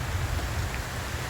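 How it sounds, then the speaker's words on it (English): Steady rain falls outdoors beside a car during a bike rack installation, a dense even hiss with a low rumble underneath and no talking. "I think we're gonna go and get out of the rain."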